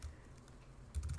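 Quick, soft keystrokes on a computer keyboard as text is entered into a web dashboard, a brief flurry of taps that turns louder near the end.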